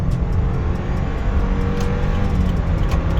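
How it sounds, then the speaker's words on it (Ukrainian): A 2017 Subaru Forester with a 2.5-litre naturally aspirated engine and automatic transmission accelerates hard from a standstill up a long uphill climb, its engine droning loud and steady with road and wind noise in the cabin. "Зараз ми спробуємо розігнати її від нуля до сотні."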